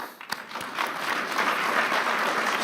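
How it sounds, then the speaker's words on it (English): Audience applause fills a hall at the World Economic Forum in Davos, a dense, steady wash of many hands clapping that swells after a couple of sharp early claps and holds loud without talk. "I think the president really should get an applause for that."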